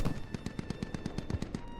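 Rapid automatic gunfire from the military shooter game Squad comes as a fast, evenly spaced string of about a dozen sharp shots, moderately distant and fairly quiet.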